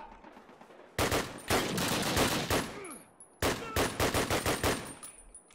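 Gunfire in a Call of Duty match: two long, loud bursts of rapid automatic fire, separated by a short pause, with faint whistling and game noise around them.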